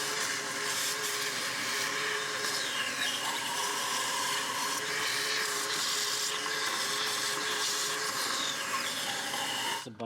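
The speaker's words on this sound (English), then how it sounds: "Trying to vacuum all these out." A vacuum sucks oil and coolant out of an Audi S4 engine bay during a supercharger install, giving a steady, loud, broadband hissing whoosh that holds unbroken for about ten seconds before cutting off.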